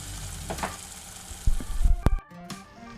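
Shaoxing rice wine hits a hot pan for ramen, giving a loud burst of sizzling and hissing that swells midway with a few sharp clanks, then drops back to a low fry.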